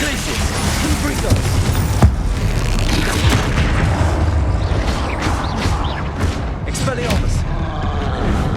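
Blasting-spell explosions from the Hogwarts Legacy video game, heavy booming bursts layered over a dense, continuous wash of combat effects and a steady low rumble, loud and sustained throughout.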